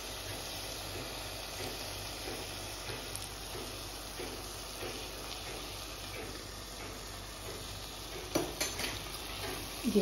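Prawn pulao stirred in a cooking pot: soft, continuous spoon scraping over a faint sizzle, with a few sharper clinks of metal near the end.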